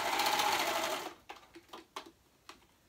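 A sewing machine runs a steady, fast, close stitching whir while sewing a hoodie with black thread, then stops and leaves a few soft clicks and taps.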